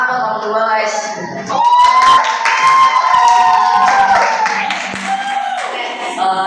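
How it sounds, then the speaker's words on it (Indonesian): A live audience applauds and cheers two performers at a school event, a sustained wash of clapping and crowd noise with voices calling out and talking over it throughout. "tepuk tangan buat kamu dua guys"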